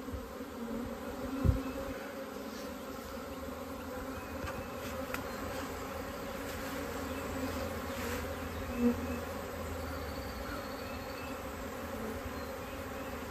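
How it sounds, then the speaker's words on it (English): A honeybee swarm hums steadily around a hive box as bees fan and fly in the air, a dense close buzz that carries on throughout with a couple of brief louder passes. "The bees flying around in the air, a little confused, trying to figure out where their queen is."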